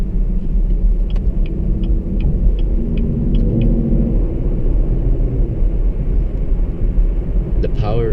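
A 2016-17 Chevrolet Camaro 2SS V8 rumbles as it accelerates from inside the cabin, a deep continuous engine drone with a faint ticking indicator early on and someone talking over it.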